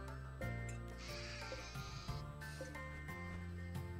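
Goats in the video game RimWorld bleat several times in short wavering calls over a quiet game soundtrack, fairly soft and close.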